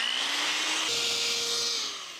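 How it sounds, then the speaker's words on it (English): A power drill whines steadily while boring corner holes into the metal wall of a ProMaster van, the motor pitch holding through a short continuous run and easing off near the end. "Andrew is drilling the corners right inside of the lines."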